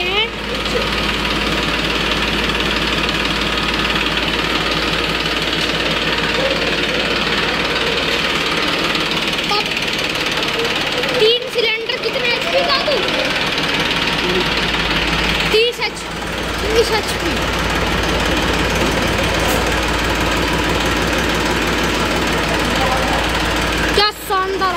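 A 30 hp New Holland 3230 tractor's diesel engine runs steadily close by, with a constant knocking, throbbing rumble and brief dips in level. Speech can be heard now and then over the engine.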